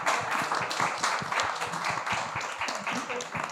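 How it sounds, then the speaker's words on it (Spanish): Audience clapping after the introduction of José Luis Martín, a founder of El Jueves magazine, at a comic festival panel; dense, steady applause with scattered sharp claps, mixed with some crowd murmur throughout. "Un aplauso, por favor."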